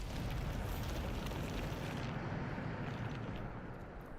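The Bombarda spell in the video game Hogwarts Legacy goes off as a loud, rumbling blast that sustains for a few seconds before its bright top end fades away, with no voice over it.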